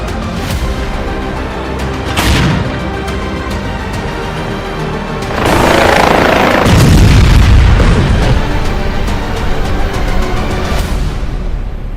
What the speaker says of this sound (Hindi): पुतिन बम की बौछार कर रहे हैं तो ट्रंप अल्टीमेटम दे रहे हैं।